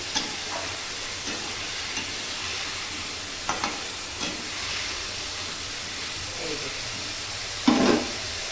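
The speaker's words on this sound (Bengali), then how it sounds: "এই দেখো, আলুটা একটু ভেজে নিচ্ছি।" A steady, fairly quiet sizzle of potatoes frying in a pan, with a few soft clinks and scrapes and a brief louder stir near the end.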